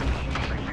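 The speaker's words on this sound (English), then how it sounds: "Cluster strike arrived." Cluster strike explosions in a shooter video game, a brief loud burst of deep booming blasts with faint voices underneath.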